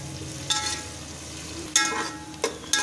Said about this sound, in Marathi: आता ही ढबू मिरची परतून घ्यायची. चांगली मऊ होईपर्यंत परतून घ्यायची.